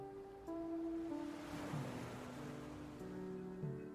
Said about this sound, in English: The waves crashing helped soothe that stress.